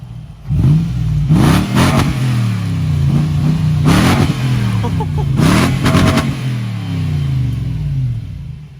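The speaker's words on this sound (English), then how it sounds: "this is with the exhaust installed now" A loud Lexus GX470 engine revving hard through an aftermarket Magnaflow exhaust, several sharp throttle blips rising and falling with crackling pops.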